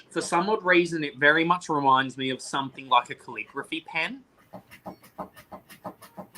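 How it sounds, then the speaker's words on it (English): A flopping fish cat toy thumps out a quick, steady series of soft taps and flaps, starting right after someone finishes talking indoors and continuing on its own. "That noise is a flopping fish toy that I got for my cat."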